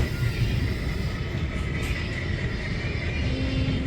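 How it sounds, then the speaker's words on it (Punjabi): A passenger train, number 14510 Ambala Cant Express, rolls away from Sekha station, a steady low rumble and rail noise filling the scene at constant loudness with no clear clicks or horn. "ਚੱਲ ਪਈ ਆਪਣੀ ਸ਼ੇਖਾ ਸਟੇਸ਼ਨ ਤੋਂ ਟ੍ਰੇਨ"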